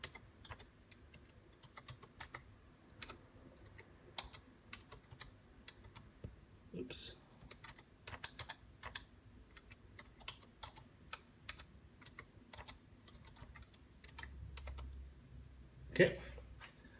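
A password typed on a computer keyboard while setting up a Draytek 2862 router: quiet, irregular key clicks close by over a low room hum, with a louder clack near the end.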